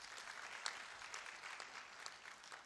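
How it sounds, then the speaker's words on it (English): Quiet, distant clapping from an audience at a pharmacists' association annual general meeting, a soft continuous patter throughout. "I think we can give them a clap"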